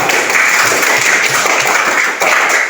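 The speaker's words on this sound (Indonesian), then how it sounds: "Tepuk tangan dulu." A classroom of students claps together, dense steady applause that fills the whole stretch, loud and close with no one speaking over it.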